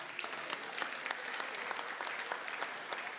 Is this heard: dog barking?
no